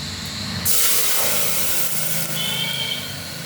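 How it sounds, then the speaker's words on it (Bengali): Soaked and dry-roasted mung dal is poured into a hot pan, setting off a sudden loud hiss and sizzle that rises sharply, then settles into steady frying. No one talks. "মুগের ডালটা ভিজিয়ে রেখেছিলাম, একটু ভেজে নিয়েছি শুকনো খোলায়, আবার ভিজিয়ে রেখেছি। এইটা আমি এখন এটার মধ্যে ঢেলে দিই।"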